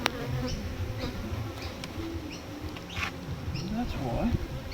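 Honeybees buzz around a healthy hive in a dense, close, continuous drone. Individual bees pass by now and then, and a voice speaks faintly underneath.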